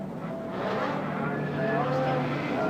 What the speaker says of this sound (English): Tom Walkingshaw just starting his engine at this moment. Jeff Allen doing likewise, and the engines start.